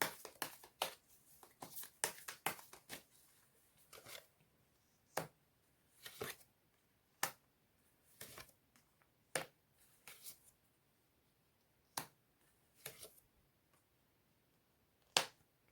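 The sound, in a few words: drawing and shuffling advice message cards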